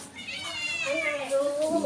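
A house cat meows in a small rented room, giving a few drawn-out, rising cries close by while someone talks over it.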